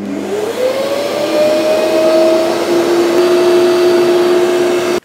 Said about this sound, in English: Finally, we have the Ultimate Dust Deputy. This is on full power.